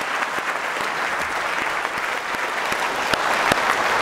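An audience at a New Year's wishes ceremony in Gaillac breaks into sustained applause, a dense, even patter of many hands clapping that carries on steadily and swells slightly toward the end.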